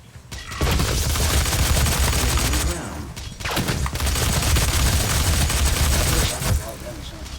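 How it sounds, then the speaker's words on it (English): Static cannon firing in Doom, loud sustained bursts of heavy gunfire-like blasts filling nearly the whole stretch, with a short lull in the middle before the barrage resumes. "this is the static cannon"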